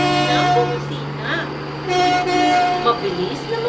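A bus horn toots in several short honks over a steady background tone, fairly loud and close.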